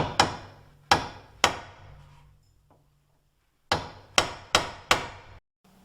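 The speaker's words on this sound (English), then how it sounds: "I got a big sledgehammer and I'm going to use a" Big sledgehammer driving a drift to separate a wheel bearing on a 2001 Honda Civic, seven loud metallic blows in two bursts with a pause between them.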